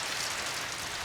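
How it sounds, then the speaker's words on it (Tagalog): Rain falls beside a garage at a small farm as a steady, even hiss with no pauses and no voices. "Ay umulan-ulan."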